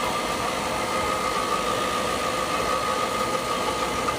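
A KitchenAid stand mixer, once owned by a grandmother, runs at a steady, constant motor hum with a whirring tone, close and continuous throughout with no pauses.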